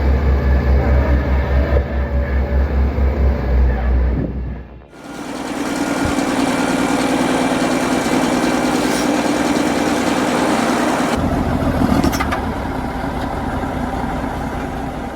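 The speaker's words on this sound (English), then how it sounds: "The Cat D8 bulldozer is equipped with a powerful 354 horsepower engine and weighs between 22 and 24 tons" A Cat D8 bulldozer with a 354 horsepower engine runs steadily and loudly close by, a continuous heavy diesel drone that dips briefly and then carries on at a constant level.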